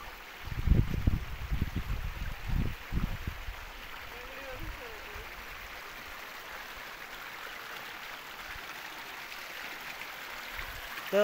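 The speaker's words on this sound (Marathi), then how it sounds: "तर मित्रांनो, फायनली आपण आता येऊन पोचलोय या जो धबधबा आहे या ओढ्यामध्ये।" A small forest stream spilling over a mini waterfall in dense jungle gives a steady, soft wash of running water, with footsteps and handling noise near the start.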